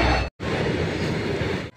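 Maa Tara Express train running on the rail line, a loud steady rumble close by that cuts out briefly twice.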